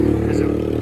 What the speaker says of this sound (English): very loud and noisy motorbike just passed.